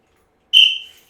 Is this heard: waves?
no